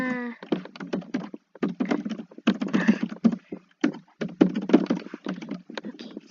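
Fingers type on a computer keyboard in quick, close clacking bursts separated by short pauses, while a brief soft tone sounds at the very start.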